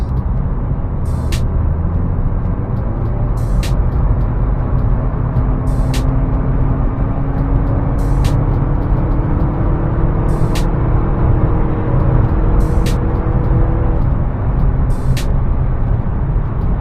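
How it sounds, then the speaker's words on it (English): A car accelerates hard from about 60 in normal drive mode on an industrial road, its engine drone climbing steadily in pitch over a loud, constant cabin roar, with faint regular ticking throughout. "right now I'll hit the gas"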